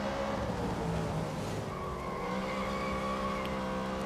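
Car tires skid and squeal through a long, slow right-hand turn in the Real Racing 3 mobile game, with an Atom V8 or Caterham Seven engine droning steadily underneath and the whine holding loud and continuous.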